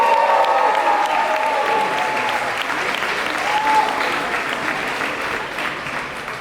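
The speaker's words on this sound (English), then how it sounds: "Can I get a big round of applause once more?" A big round of applause from the audience at a U.S. Polo Assn. launch celebration, dense continuous clapping sustained throughout with faint crowd voices and cheers underneath.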